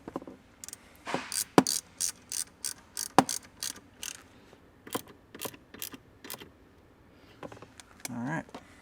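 Ratchet wrench tightening a ground bolt during a Raptor-style light installation on a 2014-2024 Toyota 4Runner, a run of close, crisp clicking bursts in a steady rhythm with short pauses between strokes and no talk.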